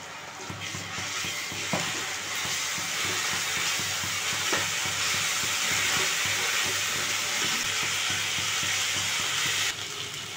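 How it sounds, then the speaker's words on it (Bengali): Ginger garlic paste hits a pan of fried onions for a Bengali doi katla fish curry, producing a steady, close, loud sizzle with occasional stirring clinks throughout. "এবার আদা রসুন বাটাটা দিয়ে দিচ্ছি।"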